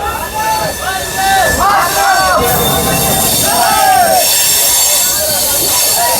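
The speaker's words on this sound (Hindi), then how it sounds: "पूरे 1 घंटे की देरी से अपनी ट्रेन डिपार्ट कर चुकी है, राजेंद्र नगर टर्मिनल से पटना जंक्शन की तरफ निकल पड़ी है।" An Amrit Bharat Express train pulls out of Rajendra Nagar Terminal in Patna, its wheels squealing in repeated high screeches over a steady rumble of rolling rail cars, with a crowd murmuring in the background.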